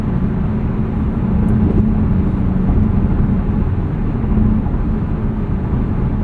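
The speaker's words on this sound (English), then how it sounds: "It's a little bit of tire noise going over bumps on the highway" Steady low road and tire rumble inside a 2026 Mazda CX-30 2.5S Aire Edition cruising on the highway, a constant broadband drone with faint thumps over bumps and little wind hiss, no talking.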